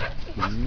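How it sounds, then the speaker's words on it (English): A dog, apparently a playful one chasing a ball with children, gives a short yelping bark-like vocalization, close and fairly loud, lasting under a second. "Falcon, you bad dog."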